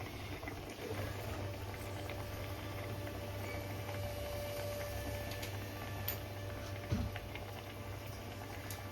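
Palm fruit garelu frying in hot oil, a soft steady bubbling and crackle with faint ticks and one small knock, quiet and close, no talking.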